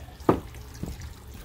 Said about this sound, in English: So this is the relief valve. It keeps squirting.